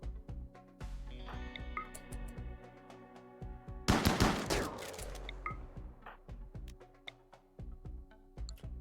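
Bursts of gunfire rattle through a busy shooter video game battle, with a loud grenade explosion erupting midway and then fading into continued scattered shots and game effects.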